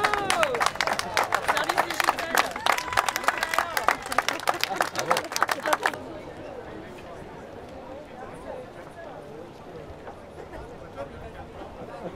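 An audience applauds skipper Louis Duc finishing the Vendée Globe sailing race, a dense, lively burst of clapping from a crowd that cuts off suddenly, leaving quieter background murmur and voices.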